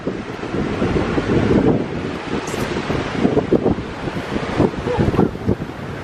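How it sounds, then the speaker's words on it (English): Strong wind on the rocky shore at Currumbin buffets the microphone in rough, continuous gusts, with a low rumbling roar like surf underneath. "It's quite windy."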